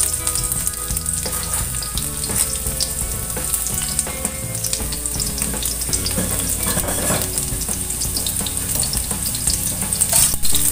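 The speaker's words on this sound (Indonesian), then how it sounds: "kemudian ditumis-tumis semuanya" Shallots and crushed garlic sauté in a little oil in a pan, a dense continuous sizzle with scattered crackles and occasional stirring scrapes, loud and close throughout.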